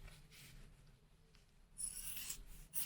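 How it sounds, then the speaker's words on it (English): Scissors clip through both fabric layers of an Edwardian blouse collar's top edge, giving quiet crisp snips and rustles of cloth, faint and close, with a brighter burst of cutting near the end. "So I'm clipping through both layers of the top edge."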